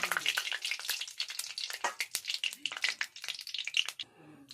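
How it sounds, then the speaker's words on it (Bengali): Cumin seeds, bay leaf and spices hit hot oil, crackling and spitting in loud, uneven bursts of sharp pops, then dying down to a softer sizzle at the end. "এবার আমি জিরে তেজপাতা সোমবারা দিয়ে দিলাম"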